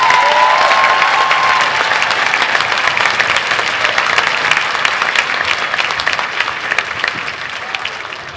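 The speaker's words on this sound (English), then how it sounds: "Let's give another big round of applause to that fifth grade band." Sustained applause from a large audience for a fifth grade band at a school band concert, dense clapping that holds steady and then gradually thins out toward the end.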